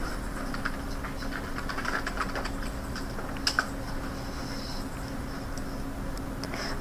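Sparse, light keystrokes on a computer keyboard set up with a Raspberry Pi, entering a short command, heard close but quiet over a steady background hum, with two sharper clicks partway through.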